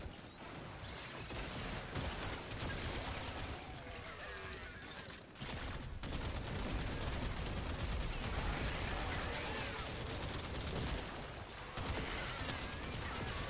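Rapid bursts of gunfire in the shooter game Warframe crackle steadily over a dense wash of game music and effects, continuous and loud for the whole stretch with one brief dip.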